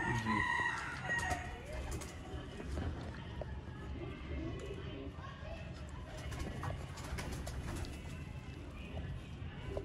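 Bloodline pigeons kept by a fancier, with a busy mix of cooing and other bird calls through the whole stretch, while people talk nearby and a fair amount of background noise sits underneath.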